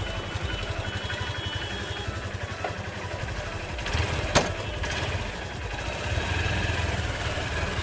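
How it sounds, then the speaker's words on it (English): A motorcycle started without a key by voice command idles steadily with a low, even engine rumble throughout, briefly punctuated by a sharp click near the middle. "So the engine is started now."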